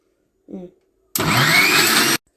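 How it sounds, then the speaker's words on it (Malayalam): After a brief voice, a blender whirs loudly for about a second, grinding a milkshake with milk, then cuts off abruptly. "ഞാൻ ഇവിടെ അരയ്ക്കാൻ ട്രൈ ചെയ്ത് നോക്കുവാണ്"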